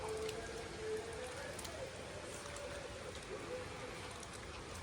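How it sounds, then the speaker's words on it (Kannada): Steady rain falls outside a house in the hills of Kodagu, a dense, even patter of drops on surfaces with a faint low hum underneath, continuous throughout. "ಮಳೆ ಬರ್ತಾನೆ ಇದೆ ಆವಾಗಲಿಂದ."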